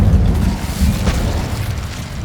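A fiery Incendio spell blast from the Hogwarts Legacy video game, a loud sustained rumbling whoosh with a brief crackling burst near the middle, no talking.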